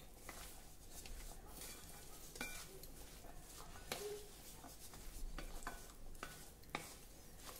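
Chana chaat dressed with lemon juice is gently mixed with a spoon in a bowl, a close, quiet run of soft scraping and rustling strokes with faint clicks repeating over several seconds.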